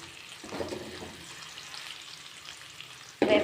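Food fries in a pan while being stirred for an egg, garlic and chili powder dish, giving a low steady sizzle with stirring scrapes and a louder sizzling burst near the end.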